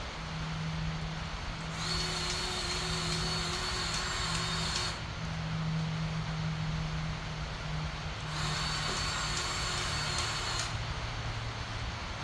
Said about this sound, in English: we're gonna use the Milwaukee cordless grease gun because it's a lot faster than pumping by hand